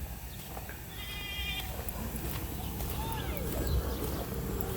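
Goats bleating outdoors beside a road in Bacong, Philippines, a few faint calls over steady background noise and footsteps.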